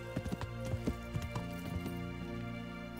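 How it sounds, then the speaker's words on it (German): Horse hooves clip-clop in an uneven trotting rhythm while riding in Kingdom Come: Deliverance, close and distinct at first, then fading into a steady ambient hum. "Wir reiten einfach mal hier entlang"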